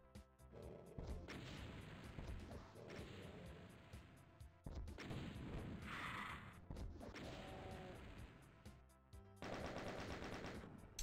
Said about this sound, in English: I'm gonna waste my rockets